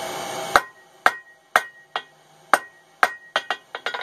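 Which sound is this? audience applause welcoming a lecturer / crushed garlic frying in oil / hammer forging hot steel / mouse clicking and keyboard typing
hammer forging hot steel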